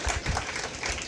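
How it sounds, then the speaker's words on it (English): Brief burst of audience applause for conference panelists at a national cyber psychology conference, a dense wash of clapping hands at moderate level throughout the short moment. "can we hear a big round of applause for all the panelists?"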